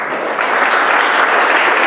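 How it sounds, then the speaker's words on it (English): Wedding guests give the newly married couple a loud, dense round of applause at close range, steady for a couple of seconds. "Give them a big round of applause."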